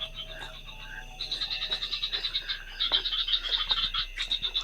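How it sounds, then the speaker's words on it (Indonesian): Frogs croak near a pond, a dense pulsing chorus of rhythmic calls at moderate distance over a faint outdoor background, with no speech. "ini ada suara katak atau kodok"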